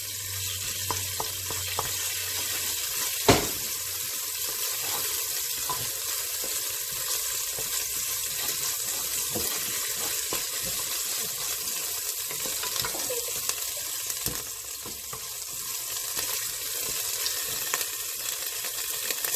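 Ginger garlic paste fries in hot oil in a pan for a karri pakora curry, a dense continuous sizzle with occasional louder pops and scrapes throughout.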